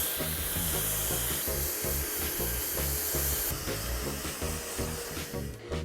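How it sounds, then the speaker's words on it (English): A hair dryer blows hair dry with a loud, constant hiss that runs throughout. Rhythmic background music pulses underneath, and the hiss fades slightly at the end. "I will start blow drying and I hold my hands here in the roots for more volume"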